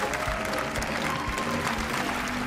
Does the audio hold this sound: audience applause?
yes